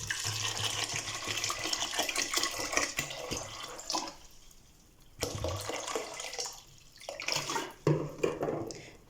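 Water is poured steadily into the inner pot of a Ramtons electric pressure cooker. It splashes close and continuously, with a brief pause midway before pouring resumes.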